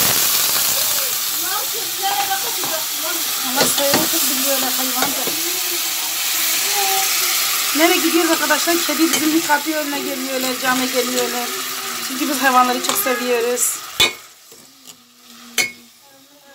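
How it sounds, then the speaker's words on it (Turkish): Meat frying in a pan for a Turkish eggplant dish, a steady sizzle and hiss running under continuous talk before it drops away near the end. "Etimi kızartacağım."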